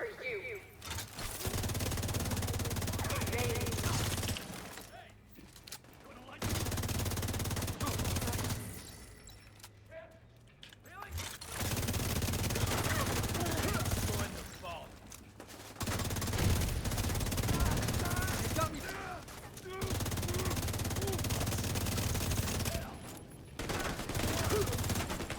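Video-game gunfire in bursts of rapid shots, loud and close, broken by several short quiet gaps.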